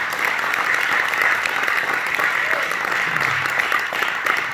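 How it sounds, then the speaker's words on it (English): Sustained audience applause at a speaking event honoring a two-time Stanley Cup champion, dense steady clapping from a large crowd holding an even level throughout. "we all need to give Jacob another round of applause for putting this together"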